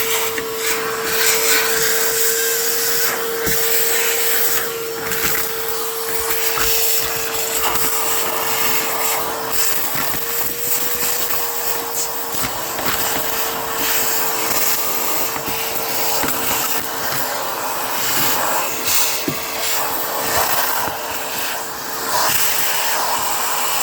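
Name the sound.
vacuum cleaning dirt out of car floor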